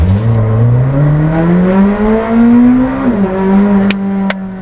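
An 800 hp McLaren Senna accelerates hard from a standstill toward 100 km/h, its engine note climbing steadily through the revs with a brief dip at a gear change, loud and close with no talking.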